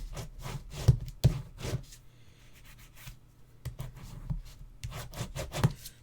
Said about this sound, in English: Just rubbing my paper down